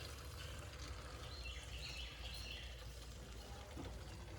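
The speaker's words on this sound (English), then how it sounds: "now we're gonna open the valve because I have the hose into a coolant tank. And I'm just gonna draw it in there." Coolant being drawn under vacuum from a tank through a hose into a Chevy Silverado cooling system, a steady close rushing, gurgling flow that holds evenly throughout with no voices.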